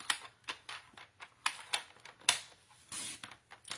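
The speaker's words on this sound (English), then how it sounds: "So I'm just going to cut a smidge" Scissors snipping paper for a scrapbook project, a quick series of small crisp cuts in an uneven rhythm, close up and quiet.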